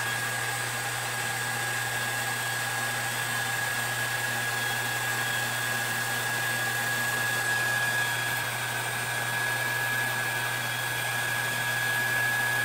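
A hair dryer runs steadily for the whole stretch, heating EVA foam for a craft piece, a constant close whir with a thin high whine and no pauses or talk.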